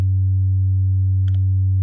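A drone synthesizer holds a steady, low sine-like tone at an even level throughout, close and alone, with a faint brief click near the end.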